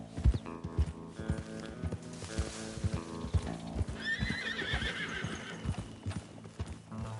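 Horses in Red Dead Redemption 2 whinny and neigh over a steady clip-clop of galloping hooves, the neighs rising loud and close midway through while the hoofbeats keep a brisk rhythm throughout.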